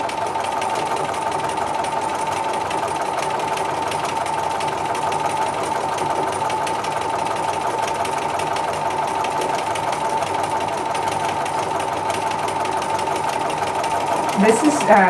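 A quilting sewing machine runs nonstop at high speed, stitching a circle-and-swirl design on a one-inch grid; its loud, even mechanical hum carries through the whole stretch while a person talks over it.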